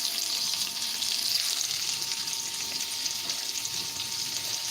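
Onions and garlic frying in a pan for chilli give off a steady, bright hiss and crackle, continuous and close with no talking.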